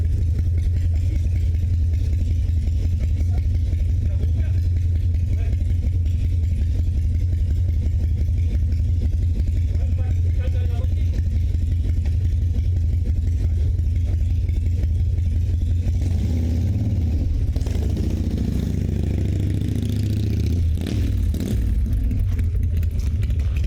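A Harley-Davidson Fat Boy motorcycle engine idles in a steady, loud low rumble throughout, with a brief rougher, louder surge near the end.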